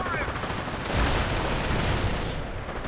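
Heavy gunfire fills a World War II real-time strategy game as Panzer grenadiers come under fire, making a dense, continuous rattle of shots and rumble with no gaps.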